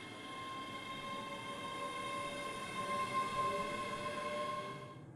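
A London-bound Pendolino train runs along the rails, heard from the driver's cab as a steady, moderately loud rumble with a sustained humming whine and no voices.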